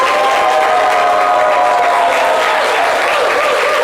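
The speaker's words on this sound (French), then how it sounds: "Vous allez forcément l'applaudir" A crowd applauds an introduced guest on a live show, loud dense clapping with a hint of cheering, sustained evenly throughout.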